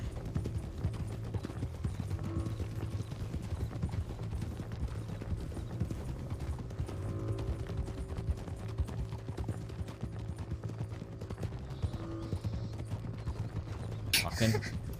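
Horse hooves clip-clopping in a steady rhythmic series of knocks over a low hum and background noise, with a sharp louder burst near the end.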